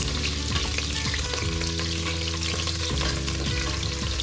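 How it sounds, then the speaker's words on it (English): Onions fry in oil for jollof rice with a steady, continuous sizzle and a few soft stirring knocks, heard close over a constant low hum. "So this onion you have to fry it."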